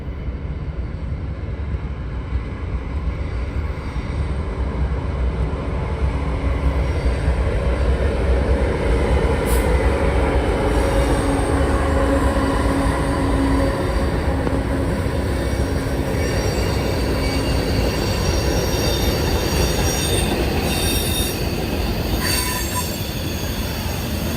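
A CSX freight train led by a Tier 4 ACe locomotive rolls past on the Clinchfield Loops near Ashford, a long continuous rumble of rail cars with repeated high wheel squeals rising over the clatter.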